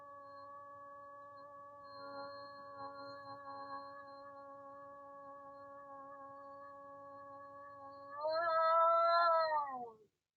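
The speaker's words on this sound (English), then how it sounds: "this is the sound it would make during the whole game that will continuously be playing." A steady, droning electronic tone plays continuously, then swells louder with a wobbling pitch before cutting off abruptly, like looping game background audio.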